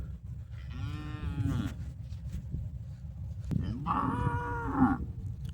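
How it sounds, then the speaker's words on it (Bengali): A cow grazing on a river island in the Meghna moos twice, with two long, drawn-out calls a few seconds apart over a steady outdoor background rumble. "গরুটি ডাকছে"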